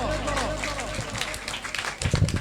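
A crowd at a large outdoor prayer meeting claps to welcome a pastor, a dense patter of applause that swells toward the end, with a voice speaking over the start.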